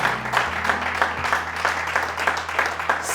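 A church congregation applauding and cheering to acclaim God, with dense, sustained clapping from a large crowd and a few voices rising through it.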